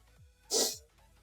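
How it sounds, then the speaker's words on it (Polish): A single close, loud sneeze bursts out on its own, preceded and followed by quiet breathing. "Będę kichał."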